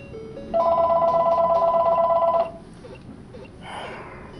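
The in-game phone in Pokemon Crystal rings with a bright, steady electronic trill for about two seconds, loud and alone, then cuts off to quiet background.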